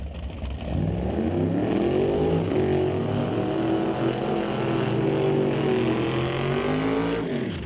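A 1967 Camaro drag race car roars down the strip at a drag racing event, a loud, sustained engine howl that climbs in pitch through the run and then drops away at the end.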